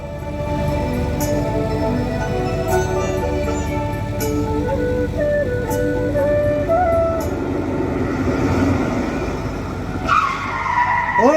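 A stage-comedy sound effect of a car skidding into a man: a loud, long tire screech over engine roar, with the pitch wavering and a sharp hit near the end.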